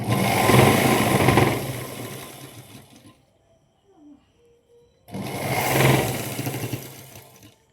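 A sewing machine stitches a seam near the armhole of a Punjabi dress in two loud, close whirring runs, each about three seconds long, separated by a quiet pause with small handling sounds.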